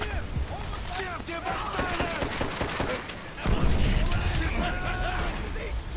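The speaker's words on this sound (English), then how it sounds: "Getting shot from up here." Rapid gunfire crackles through a Call of Duty: World at War firefight on PC, dense overlapping bursts of shots with a heavier volley midway, while a voice talks over the din.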